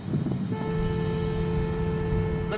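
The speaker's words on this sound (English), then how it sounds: "I'm going to blare on the horn now." A car horn blares in a long, steady, unchanging tone from a car speeding down the road, held over loud continuous road and engine rumble.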